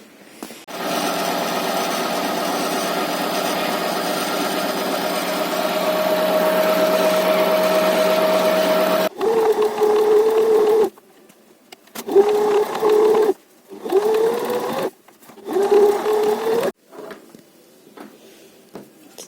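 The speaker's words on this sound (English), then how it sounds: "We'll just sew that, tuck it in a bit and sew that edge." A sewing machine stitches fabric for a triangle rat hammock, humming steadily for about nine seconds, then running in four shorter close bursts separated by pauses.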